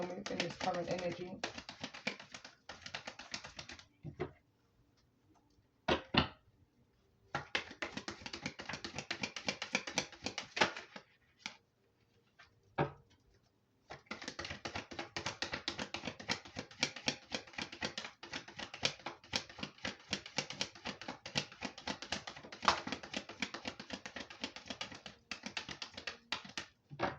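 Tarot cards being shuffled, a dense run of quick soft riffling taps in close bursts broken by short pauses, with a voice speaking at moments.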